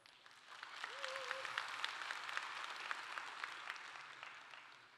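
Audience applause at a startup demo day pitch, a soft, steady wash of many hands clapping that swells slightly and holds for about five seconds.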